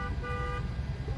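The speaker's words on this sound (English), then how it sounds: "you can hear the honking" Car horns honking in heavy evacuation traffic near a wildfire in Trabuco Canyon, a sustained tonal blare over a dense rumbling wash of vehicle and outdoor noise, fading after the first half.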